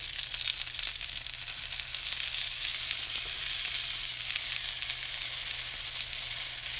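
A blueberry pancake sizzles in a buttered pan after being flipped, a steady, close frying hiss that runs unbroken and even throughout with no voices.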